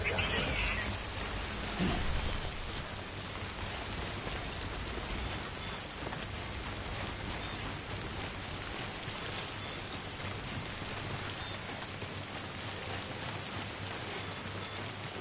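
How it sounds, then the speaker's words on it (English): Steady rain in the Death Stranding video game, a constant broad hiss of falling water holding at an even level throughout, with faint mechanical ticks scattered through it. "Hopefully the rain stops."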